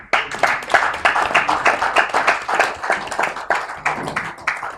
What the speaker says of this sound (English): Please let's keep your applause going.